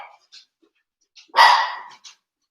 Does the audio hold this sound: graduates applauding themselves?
no